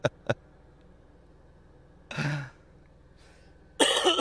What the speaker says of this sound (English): I keep on for hitting the cough button